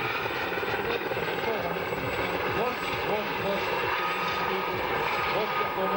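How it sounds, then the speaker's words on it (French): A Gazelle helicopter flying a display at the 1996 Darois air show gives a steady, loud rotor and engine drone, with a commentator talking throughout. "grosse performance de cette hélico."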